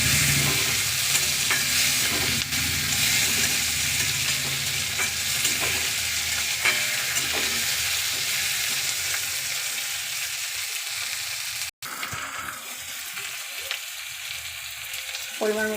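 Chopped tomatoes fry in a pan while being stirred, a loud continuous sizzle broken by scraping strokes, with a brief dropout near the end.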